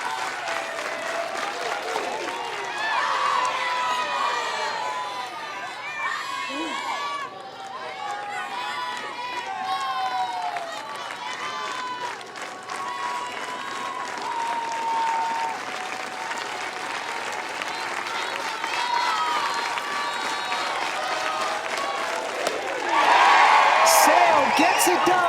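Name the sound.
softball fans standing and clapping in rhythm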